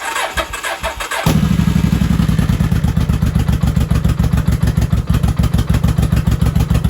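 A 1983 Honda Shadow VT motorcycle engine catches with the choke on and settles into a loud, close, rapid rhythmic idle of even pulsing beats, with no talk.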